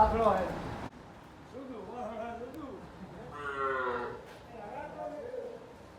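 A cow at a cow shelter where cows calved that day moos in a few drawn-out calls that rise and fall, close by and fairly loud, over a low background murmur.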